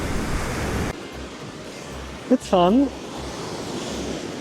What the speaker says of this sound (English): the waves are really huge